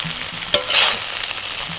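Chicken fry biryani being mixed with saffron milk and kewra and rose water, a short burst of stirring and soft sizzling with one sharp utensil knock near the start, close and fairly loud, no voices.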